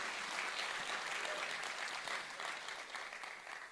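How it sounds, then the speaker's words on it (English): Sustained audience applause at an awards ceremony after a musical performance, dense steady clapping from a large crowd throughout, fairly distant and even, tapering slightly at the end. "Let's give them a round of applause, weren't they great?"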